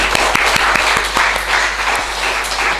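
A church congregation claps in thanks and encouragement, giving dense, even applause with sharp individual claps standing out, sustained and fairly close for a few seconds.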